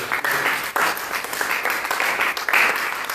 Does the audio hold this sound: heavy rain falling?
no